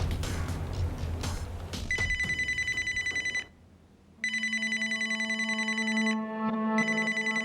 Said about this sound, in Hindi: उत्तम, तुम्हारा फोन।